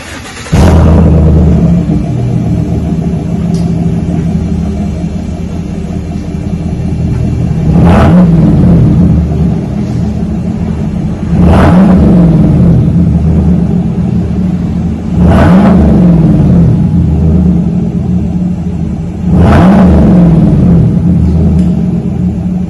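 A 2020 Chevrolet Silverado pickup's engine rumbles loudly at idle, then revs hard through a throaty single-chamber V-tube muffler in four repeated bursts, close by.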